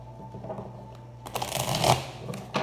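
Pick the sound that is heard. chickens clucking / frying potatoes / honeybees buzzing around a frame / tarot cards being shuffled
tarot cards being shuffled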